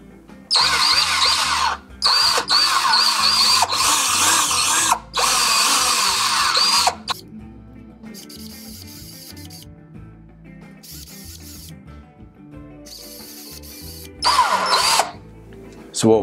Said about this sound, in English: we're ready to drill